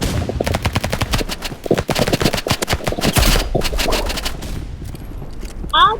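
Rapid bursts of gunfire from a Rivals shooter video game crackle through the whole stretch, dense volleys and single shots layered close and loud, with a voice speaking briefly near the end.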